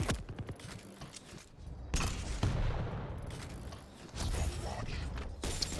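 Rocket launcher fire in a Quake Pro League duel, with bursts of launches and blasts around the arena over steady game effects and rattling movement, loud and close.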